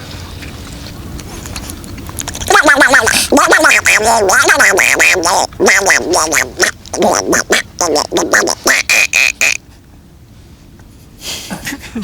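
A person imitates a duck with a burst of raspy quacking, then a series of short, choppy quack sounds in quick succession before trailing off.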